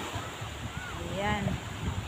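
Strong wind at Noveleta Beach makes a constant, heavy rushing and low buffeting against the microphone, with faint voices in the background.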